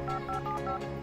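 Rapid telephone keypad dialing tones, a quick series of short, evenly spaced beeps sounding loud and close with nothing else underneath.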